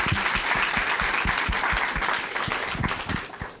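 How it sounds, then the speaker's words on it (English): A conference audience applauds a panel speaker, dense continuous clapping from a room of people, close and loud, fading slightly at the end. "May I have an applause for her?"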